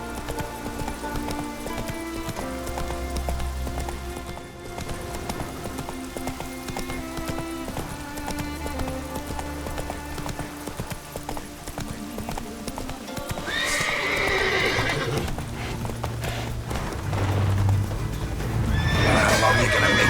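Roach, the horse in The Witcher 3, with hoof clip-clops and a neigh over steady game music, plus a rising rush of rain or wind near the end and a brief voice.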